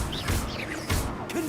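A Glacius freezing spell cast in Hogwarts Legacy, heard as a short burst of crackling, whooshing magic with sharp hits. It sits amid busy game effects, and a faint voice is in the background.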